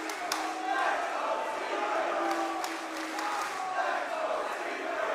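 Esports arena crowd at the Manchester Major quarterfinals, Team BDS versus Team Secret, cheering and roaring in a steady, dense wash with scattered sharper shouts, a commentator talking over it throughout.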